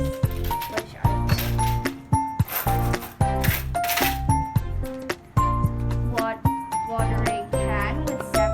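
Coins or poker chips handled for a soil erosion science activity, giving bright metallic clinks and drops in quick irregular bursts close by, with background music throughout.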